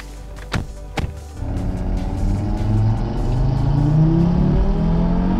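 A Golf hatchback pulls away for a drive: two sharp knocks, then a steady engine rumble that climbs in pitch as the car accelerates, heard from inside at close range.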